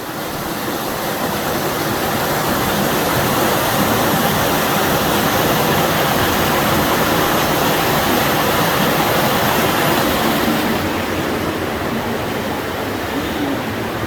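Water pours steadily at an old mill in Elkhart County, Indiana, a loud, continuous broadband rush like a millrace or spillway, unbroken throughout.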